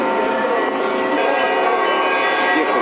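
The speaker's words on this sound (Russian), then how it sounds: "Сочный, гармоничный, красивый звон разнесся по округе." A large church bell of 1000 poods peals continuously, rich and resonant, its dense overtones hanging in the air and ringing out loud and sustained.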